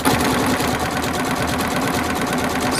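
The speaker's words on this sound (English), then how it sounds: "I hope this is not bumpy as I'm sewing for you." A sewing machine stitches craft cord into a coiled bowl, its motor humming in a steady, continuous run at close range with no pauses.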